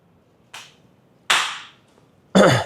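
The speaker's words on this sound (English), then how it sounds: "Do a clap noise for yourself." Three sharp, separate hand claps at uneven intervals, each a little louder than the one before, in an otherwise quiet room with no talking.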